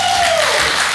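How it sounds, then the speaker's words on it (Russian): A studio audience at a talk show applauds in a brief, dense wash of clapping, loud and even throughout. "Под ваши аплодисменты, ребята."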